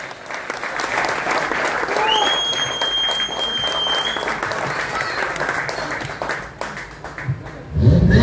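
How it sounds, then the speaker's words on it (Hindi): A crowd at an inauguration ceremony applauds steadily and loudly for several seconds. A faint tone and scattered voices run beneath the clapping, and it thins toward the end. "गोटे जोरदार ताली होगा दरकार।"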